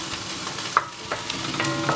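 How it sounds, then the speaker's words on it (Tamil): Torn curry leaves crackle and sizzle in hot oil with garlic and green chilli for a fried aubergine sambal, a steady close frying hiss broken by a few sharp pops. "அதுக்கு பிறகு கருவேப்பிலை நல்லா பிச்சுட்டு இதோட போடுறேன்."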